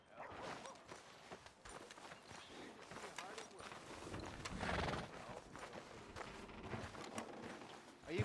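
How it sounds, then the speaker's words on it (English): A horse whinnies and hooves clop steadily alongside clattering movement in Red Dead Redemption 2, fairly close, with other game sounds mixed in. "Are you gonna mount that new horse of yours or not?"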